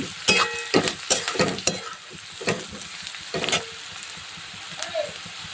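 Kande pohe being stirred in a pan with turmeric, a spoon scraping and clattering in quick, irregular strokes over a soft, steady sizzle, close and moderately loud with no voices.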